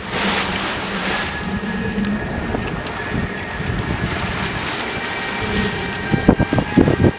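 A sailing boat at sea off Santa Cruz, Tenerife, with steady wind buffeting the microphone and waves washing against the hull, a continuous loud rush with splashy surges near the end.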